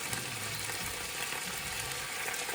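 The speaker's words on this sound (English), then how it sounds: "That's sizzling away lovely." Jerk chicken sizzles and crackles steadily in a hot pan, a constant frying hiss.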